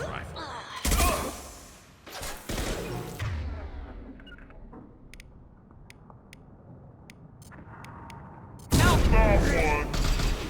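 Rifle fire rings out in Mass Effect 2: sharp, loud bursts of shots open the scene, a quieter stretch of clicks and mechanical ticks follows, then a heavy volley of gunfire erupts again at the close.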